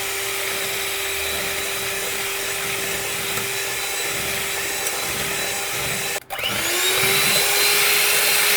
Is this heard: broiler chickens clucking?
no